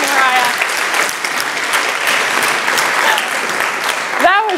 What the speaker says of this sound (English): Let's give a round of applause for Joshua and Mariah.